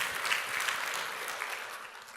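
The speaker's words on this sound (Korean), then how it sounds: "박수" Church congregation breaking into applause at a preacher's call, a brief, steady wash of many hands clapping at moderate loudness.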